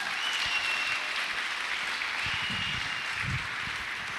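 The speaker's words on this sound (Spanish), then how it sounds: "¿Por qué no le da un aplauso a Dios por eso?" A church congregation applauds during a worship service, steady broad clapping that holds evenly throughout, with a few low murmurs underneath.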